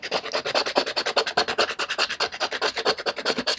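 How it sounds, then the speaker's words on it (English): A small palette knife scrapes back through layers of paint in an art journal, producing a fast, rhythmic series of dry rasping strokes, close and fairly quiet, with no voices. "I got a much smaller palette knife, and I'm just scraping."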